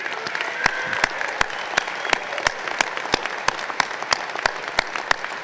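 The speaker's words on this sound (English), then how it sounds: "Let's give Ryan a round of applause." Audience applause at a spring university commencement ceremony honoring a graduate and soon-to-be lieutenant, a steady dense patter of many hands clapping with sharp individual claps standing out, moderately loud and sustained without talk.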